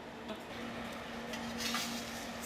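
A maple-syrup grilled cheese sandwich set into a frying pan, a soft sizzle starting under faint clinks of pan and utensil, quiet and close, with no talking.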